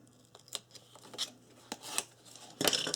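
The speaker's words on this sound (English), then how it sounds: "I'm going to take the tape backing off on this one" Tape backing is peeled off a strip on a chipboard album, giving a few soft, close, scattered rips and rustles, ending in a louder crinkling burst.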